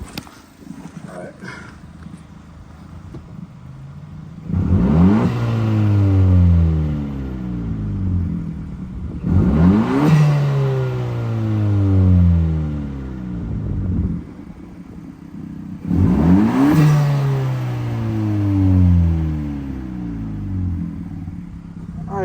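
An Acura RSX engine with a muffler-delete exhaust is revved three times in loud, raspy bursts, and each rev climbs and falls back to idle between pulls.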